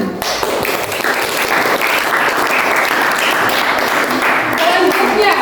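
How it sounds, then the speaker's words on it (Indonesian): Loud, close applause in a classroom, many hands clapping steadily for several seconds, with some voices mixed in. "Yang terakhir, tepuk tangan dulu."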